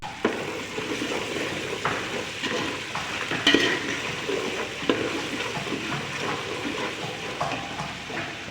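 Onions, ginger and garlic fry in a pan with a steady, close sizzle that keeps going throughout, with a few faint stirring scrapes and light clinks of a utensil on the pan.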